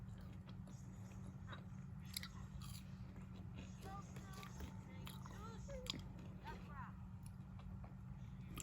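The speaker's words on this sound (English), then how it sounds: "Sorry if you can hear me chewing." A person chewing food close to the microphone, with repeated soft crunches and wet mouth sounds over a steady low hum and faint game sounds.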